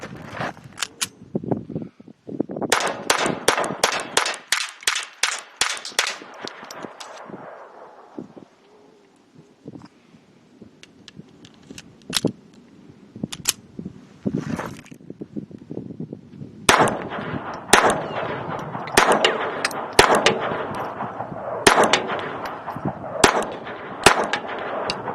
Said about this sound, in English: Still shooting the champion 40 grain lead round nose.